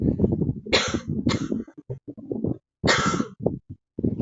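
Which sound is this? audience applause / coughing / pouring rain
coughing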